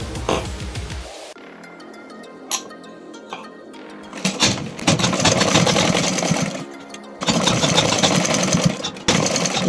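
A sewing machine stitches a kurta seam. After a quiet stretch with a few light clicks, it runs in two long, rapid mechanical bursts that stop and start again.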